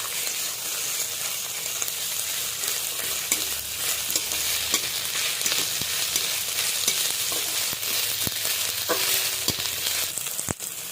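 Peas, ginger and chili fry in a pan, a steady broadband sizzle running throughout with scraping stirs and occasional sharp clinks of a utensil against the pan, nearby and fairly loud, with no talking.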